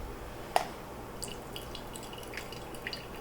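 Liquid dripping from squeezed cooked rice into a bowl, a sharp close drip followed by several faint scattered drops over a quiet background.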